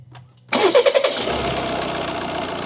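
A Volvo car engine cranks and catches abruptly after a quiet moment, then settles into a steady, close idle with a rough, throbbing rumble.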